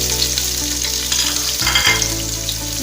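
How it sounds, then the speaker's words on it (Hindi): Onions fry in oil in a home kitchen, a steady loud sizzle and crackle with a low hum beneath and a couple of brief stirring bumps, no voice over it. "यहाँ पर प्याजों को हम अच्छी तरीके से फ्राई कर लेंगे।"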